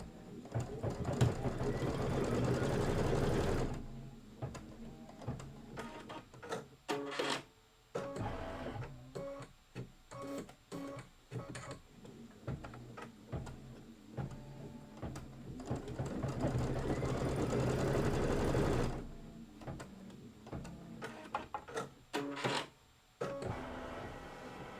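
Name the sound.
embroidery sewing machine stitching trim placement line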